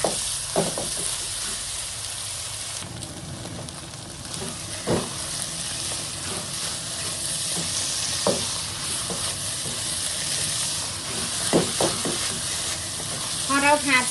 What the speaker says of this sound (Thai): ผัดต่อให้แห้งให้เหนียวให้ได้ที่เลยค่ะ